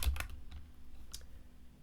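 Keys on a computer keyboard clack in a few quick, close taps, then sparse quieter strokes trail off.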